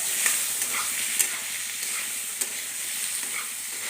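Tomatoes frying for a fish curry, a steady close sizzle with stirring scrapes and small sharp spatula clicks in a pan, no voices.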